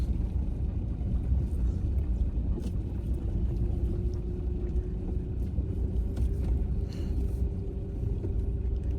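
A car drives slowly along a slippery winter road as rain begins. A steady low engine and road rumble with a constant hum is heard from inside, with no talking.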